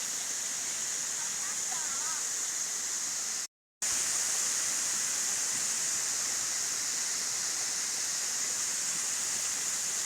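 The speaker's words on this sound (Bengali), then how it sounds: "এই হলো সেই ঝর্ণা, একটি ভাইরাল একটি ঝর্ণা।" Kanching Falls in Selangor, Malaysia, pours with a steady, dense roar of falling water, loud and continuous throughout, broken only by a momentary cut to silence partway through.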